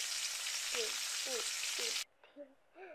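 French fries frying in the Roblox Livetopia video game: a steady, loud broadband sizzle for about two seconds, then it cuts off, leaving faint game sounds and soft voice-like tones.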